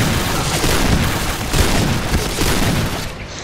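Rapid bursts of gunfire in the video game Point Blank, with sharp booming shots, loud and dense, overlapping in quick succession.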